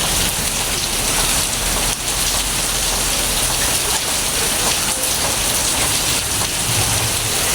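Heavy rain pours down steadily, a dense, continuous hiss of drops hitting surfaces close by, with no pauses across the whole stretch.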